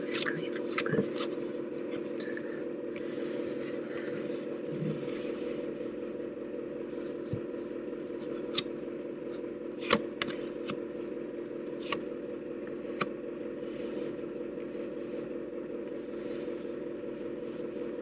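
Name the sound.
tarot cards being spread out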